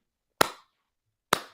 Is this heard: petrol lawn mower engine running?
no